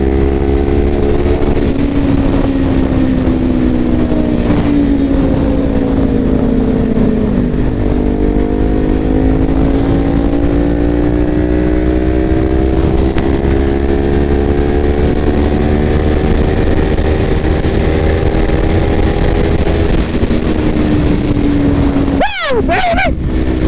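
Kawasaki Ninja 400 motorcycle accelerating hard, loud engine climbing through the gears with rising whine and shift drops, heard close from the rider's position with steady wind rush throughout.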